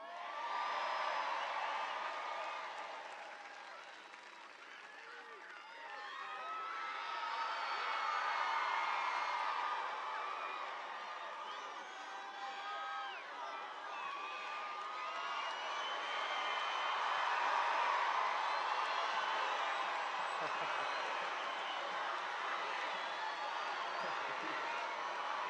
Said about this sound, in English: I want everybody to give a huge round of applause to Scott for that introduction